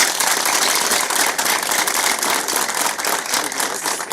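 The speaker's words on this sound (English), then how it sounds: "I've given you the applause" A game show studio audience gives sustained, dense applause of many hands clapping at once, loud and close, steady throughout with no talk over it.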